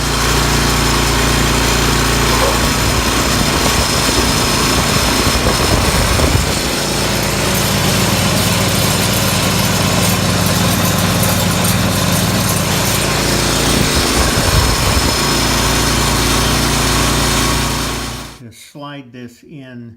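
An MTD snow blower engine runs steadily and loud for about eighteen seconds after an auger belt replacement, a close buzzing small-engine drone with slight load changes, then it is cut off abruptly.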